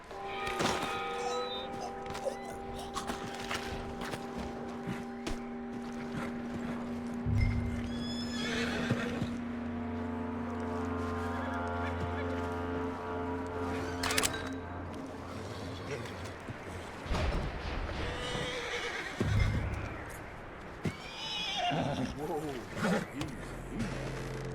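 Horse in the video game Red Dead Redemption 2 neighing and whinnying repeatedly while its hooves clip-clop and thud nearby, mixed with game music tones and occasional voices.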